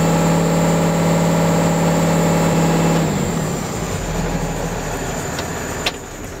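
Vehicle engine during an electrical system test with an AutoMeter BCT-460 tester, held steady at high governor speed with a loud, constant drone before the revs drop away to a lower steady running hum.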